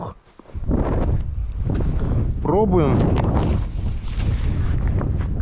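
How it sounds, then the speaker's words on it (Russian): Strong, hurricane-force wind buffets the microphone in a constant low roar while fishing, with a voice speaking over it. "Дует ветер. Ураганной силы ветер."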